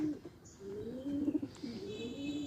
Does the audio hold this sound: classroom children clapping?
no